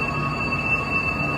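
A high-speed train pulls into Suzhou North Railway Station, a steady rumbling hum of rolling stock with a faint sustained whine, continuous and moderately loud with no voices.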